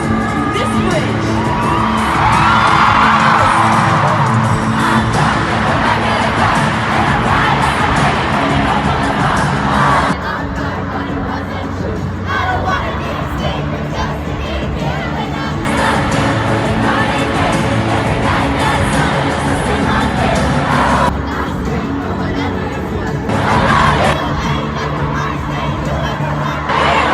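A packed stadium crowd at an Eras Tour concert screams along to a song's bridge, a loud, dense, continuous roar of voices over the music.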